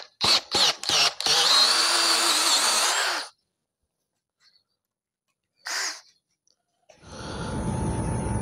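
A Dewalt DCD709 cordless brushless drill gives several quick trigger bursts, then a sustained high whine that stops abruptly, one short burst after a pause, and finally a low rumbling run, close and loud.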